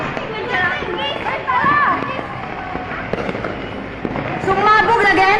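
A fire at a firecracker seller's stall sets off stock in a relentless barrage of sharp pops and crackles, near and loud, with people shouting and moving about amid the explosions.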